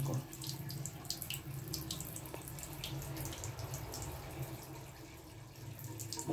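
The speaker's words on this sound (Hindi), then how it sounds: "पानी गर्म निकल रहा है" Hot water streams steadily from the tap of an ULTino Pro instant water geyser, a continuous faint rushing flow into a sink, heard alone with no voices.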